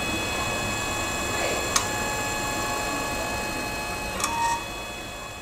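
3D printer running while printing an object: a steady mechanical hum with sustained motor whine tones, broken by a couple of faint clicks, close and continuous.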